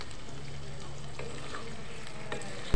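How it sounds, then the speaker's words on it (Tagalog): Pepper stirred in a frying pan with a garlic buttered shrimp and oyster mushroom dish, giving a steady low sizzle with soft scraping strokes throughout and a brief louder knock at the very end. "Tapos haluin ulit natin siya."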